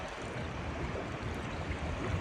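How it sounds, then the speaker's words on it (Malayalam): Flood water from heavy rain in Dammam, churned into waves that make a steady broadband rushing and sloshing wash, fairly close and with no talking. "അവിടെ തിരമാല അടിക്കണതാ"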